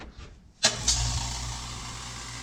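An air compressor kicks on abruptly after a moment of near silence, then settles into a steady, fairly quiet motor hum with a low drone.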